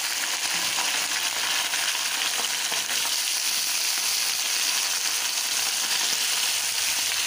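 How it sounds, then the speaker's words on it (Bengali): Eggplant, potato and tomato frying together in a pan, a loud, steady, hissing sizzle that holds evenly throughout with no voices. "এখন আমি এর মধ্যে বেগুন আলুটা একটু ভেজে নেব। একসঙ্গে টমেটোটাও দিয়ে দিলাম।"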